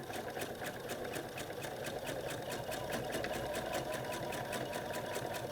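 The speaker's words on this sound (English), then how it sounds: "I'm sewing on the outer box, not on the help lines." A sewing machine stitches steadily along the outer box of a quilt block, a fast, even mechanical rattle of needle strokes, close and continuous with no talking.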